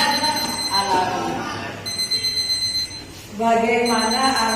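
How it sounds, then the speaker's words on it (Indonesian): An electronic alarm tone played back in a school classroom, a loud ringing beeping pattern that stops briefly and then resumes at a different pitch. "Itu bunyi alarm, Bu."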